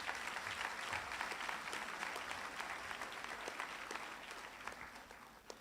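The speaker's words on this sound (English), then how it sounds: "Can we just clap them, ladies and gentlemen?" Audience at a community college graduation ceremony claps for the graduating class, a dense, sustained round of applause from many people that holds steady before tapering slightly at the end.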